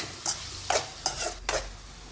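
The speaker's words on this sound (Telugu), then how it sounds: "ఇటు కలపండి అన్నిటికీ పట్టేలాగా ఉప్పు పసుపు" Brinjal pieces are stirred with salt and turmeric for a tomato-brinjal curry, giving four short, close scraping strokes of a spoon in the pan over a faint sizzle, with no talk.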